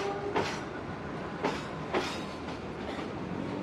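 The Mutiara Selatan passenger train rolls into Bandung station, a steady rumble of wheels on rails with a few sharp clacks at irregular intervals, heard at moderate distance without voices.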